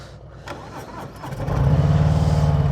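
Harley-Davidson Sport Glide motorcycle engine cranking and then catching, settling into a loud, close, rumbling V-twin idle with a lumpy pulsing beat.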